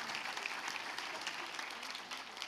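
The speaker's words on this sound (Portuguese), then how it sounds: "Eu queria uma salva de palmas para eles e elas." Applause from the audience at a municipal plenary meeting welcoming new Workers' Party members in São Paulo, a steady wash of many hands clapping at moderate distance for a few seconds with no talk over it.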